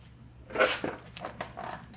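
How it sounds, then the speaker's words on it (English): A pet dog named Lady lets out a few short, close barks and whimpery yelps in a small home studio, loud and abrupt against a quiet background. "Had to show off my dog."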